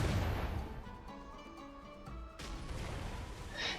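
A cannon booms once in Black Desert Online, a muffled low blast with a rumbling tail, followed by another dull impact about two seconds later, with ambient game sound underneath.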